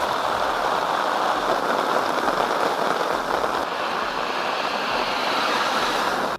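Heavy rain driven by strong wind in Kottayam district, a loud, steady rushing downpour that continues unbroken throughout with no voices.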